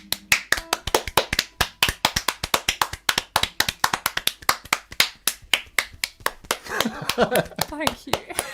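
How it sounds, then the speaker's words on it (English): Audience clapping at a folk music concert, a steady run of sharp, closely spaced claps that starts loud and thins into scattered applause as a voice begins talking near the end. "I think we have to keep clapping for ages until somebody's put their earphones back on."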